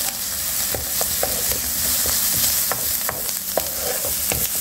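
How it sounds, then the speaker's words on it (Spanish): Chicken with lemongrass and grated lemon zest sizzles loudly in a pan. A spoon scrapes it around the pan with repeated clinks against the metal, close to the listener, and no voices are heard. "Revolvemos"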